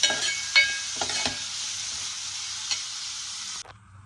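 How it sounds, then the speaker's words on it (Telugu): Onions frying in a pan for a curry, with a soft continuous sizzle and a few stirring scrapes and clicks before the sound cuts off abruptly near the end. "ఇది కూడా బాగా ఎర్రగా వేగే వరకు మనం ఉల్లిపాయలు అయితే చక్కగా వేపించుకుందాము"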